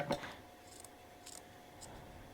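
Scissors snip once through the end of a yarn tassel while making crochet bobble-stitch wall decor. The cut is quiet and brief, and a couple of fainter handling sounds follow.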